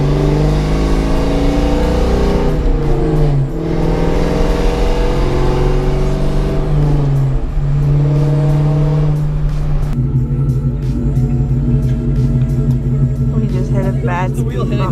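A car engine runs and accelerates steadily throughout, its tone rising and shifting as it drives, with people talking over it from inside the cabin.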